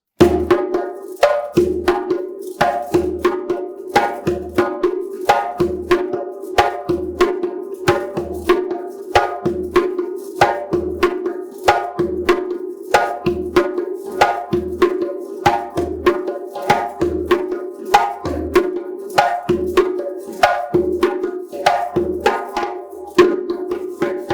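A steady, repeating African hand-drum accompaniment pattern with sharp slaps and deep bass strokes, played in a tight looping rhythm at a lively pace.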